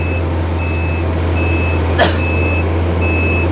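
A combine rice harvester backing up sounds a steady, evenly spaced electronic reversing beep over a loud, constant engine drone, with one brief hiss partway through.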